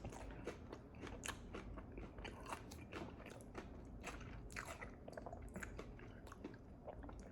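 Someone eats food dressed with Last Dab Apollo habanero hot sauce, giving soft close crunching and chewing bites in a steady run, quiet and with no talk.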